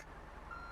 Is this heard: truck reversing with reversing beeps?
yes